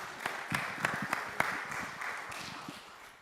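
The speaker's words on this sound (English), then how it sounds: "We don't usually applaud in shul," Congregation applauding in a synagogue during Yom Kippur afternoon services: soft, modest clapping from a group, a few sharper claps standing out, fading gently over a few seconds.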